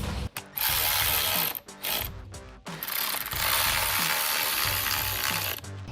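A hand ratchet tightens a bolt on a 2018-2023 Mustang GT's matte black HDPE rear diffuser, loud rapid pawl clicking in long bursts broken by brief pauses, close up and without talking.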